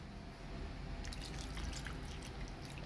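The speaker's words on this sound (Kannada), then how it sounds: "ನೀರು ಹಾಕ್ಕೊಳನ್ರಿ" Water trickles and splashes into a cooking pan for a ridge gourd curry, a close, continuous pour with small bubbly drips over a steady hiss of background noise.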